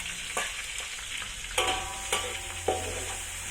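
Shallots and chili frying in hot oil in a pan for sambal belimbing buluh, a continuous close sizzle punctuated by a few firm spatula scrapes and knocks.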